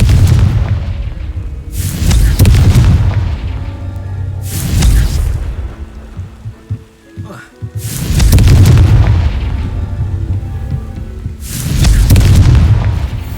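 Confringo blasting spell explosions in the video game Hogwarts Legacy, aimed at rocks: four heavy, deep booms spaced a few seconds apart, each loud and rumbling before fading, with a brief quieter gap in the middle.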